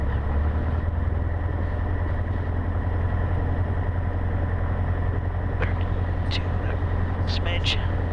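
Steady drone of a Cessna 150's engine running in the cockpit on a rainy evening, a constant low rumble throughout with brief voices over the top.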